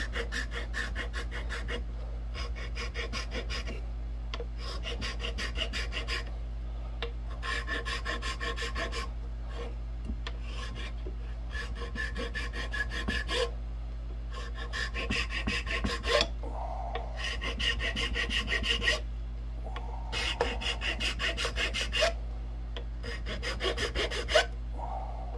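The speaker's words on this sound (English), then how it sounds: "So now I'm going to file up against this" A powder horn for a trade gun being tapered with a hand file, giving steady rhythmic rasping strokes in repeated bursts, close and fairly loud over a low constant hum.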